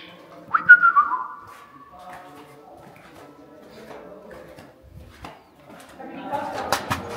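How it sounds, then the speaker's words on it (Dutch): Birds call near a film studio set at a cinema museum in Ouarzazate, Morocco, with a clear whistling call early on and softer scattered chirps and coos afterward, while people talk. "Oh, vogeltjes."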